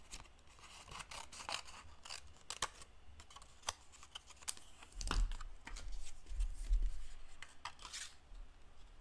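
Paper pieces being snipped with scissors for a starry-sky card, a string of short crisp cuts and light rustles at close range, uneven in rhythm, with a few soft low thumps near the middle and no talking.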